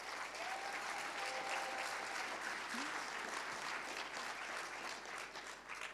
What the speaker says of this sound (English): So I also want to invite you to a little round of applause for the organizer of this